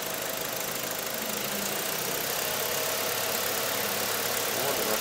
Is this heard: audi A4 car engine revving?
yes